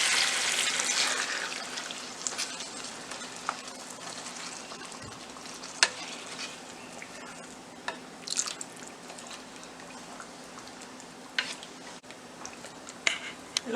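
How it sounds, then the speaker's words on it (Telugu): Water poured into a pan of simmering chicken curry, giving a steady sizzling, bubbling hiss that settles into a soft simmer with scattered drips and faint clinks, fairly quiet and without voices. "ఇలా వాటర్ పోసి"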